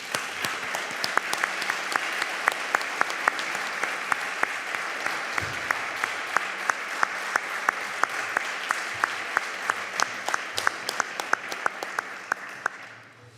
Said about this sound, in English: I think we can applaud Josep.